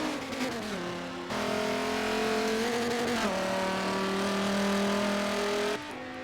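A Dodge Viper race car engine in a racing video game set at the Nurburgring 24 Hours roars loudly at high revs, pitch climbing through gears with brief shifts and a steady sustained drone.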